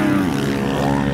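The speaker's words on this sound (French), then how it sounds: "Attention, il y a 2 avions de chasse qui arrivent sur la gauche." Aircraft engine noise sweeps over a calm riding spot as two fighter jets approach from the left, a steady loud roar with a slowly shifting pitch, no voices.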